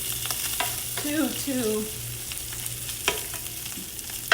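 Ground meat sautéing in a skillet for skillet spaghetti, a soft continuous frying sizzle with occasional scrapes and stirs of a utensil, close and moderately quiet, with no talking.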